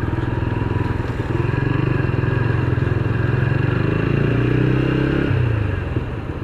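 A motorcycle on a road trip, its engine droning loud and close without a break, a steady rumble that swells slightly near the end.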